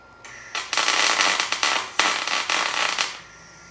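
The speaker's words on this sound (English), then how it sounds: "I just have to weld on this side now." A welder joins the stripped drive shaft of a RedMax string trimmer, producing close, loud crackling and sizzling in several short bursts with brief gaps.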